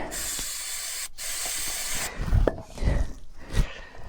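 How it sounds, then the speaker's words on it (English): Brake cleaner sprayed onto the electrical contacts of a winch, a close steady hissing spray for about two seconds followed by shorter bursts and rustling handling noises. "A little bit of brake clean."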